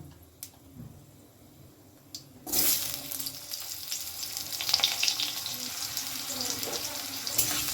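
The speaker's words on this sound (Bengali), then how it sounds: "এবার আমি এর মধ্যে দিয়ে দিচ্ছি কেটে রাখা আলু" Cut potatoes dropped into hot spiced oil in a pan for a mixed vegetable dish, a sudden loud sizzle that starts partway through and keeps hissing steadily after a few quiet clinks.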